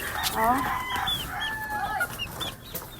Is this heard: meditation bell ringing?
no